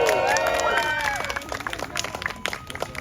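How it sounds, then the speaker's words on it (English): Audience clapping for an award recipient at a Cub Scout Court of Honor, a few seconds of scattered applause in a room, with people talking over it. "Please give our award recipient a final applause."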